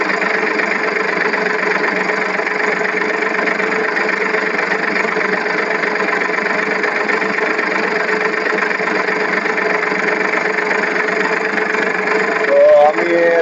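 A farm tractor engine runs close by with a steady, loud drone, holding an even idle throughout, with a brief voice near the end.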